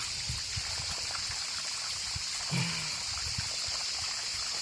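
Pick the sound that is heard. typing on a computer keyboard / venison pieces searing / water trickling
water trickling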